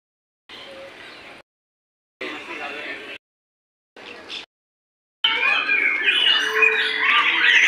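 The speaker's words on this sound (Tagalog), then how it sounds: "Yun, puro ibon dito." Birds chirp and squawk at Madai Birds Paradise, a forest bird park, in short bursts separated by silences and then a denser stretch of overlapping calls, with talk mixed in.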